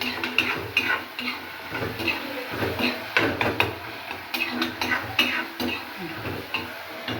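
Onions with salt sauté and are stirred in a pan for prawn masala, a steady sizzle under repeated scraping and clinking of a spoon against the pan, close up.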